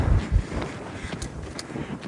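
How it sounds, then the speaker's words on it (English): Strong wind on the coast near John O'Groats buffeting the microphone, with low rumbling gusts and a few heavy thumps early on, followed by steadier rushing noise. "Might be blue skies, but still very windy"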